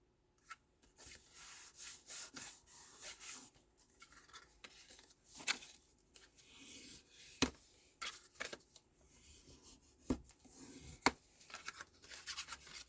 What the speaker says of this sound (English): Got a really good burnish.